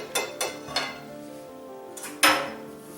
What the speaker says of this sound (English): Get my whisk out of here.